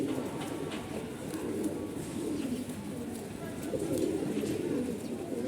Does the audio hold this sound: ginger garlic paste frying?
no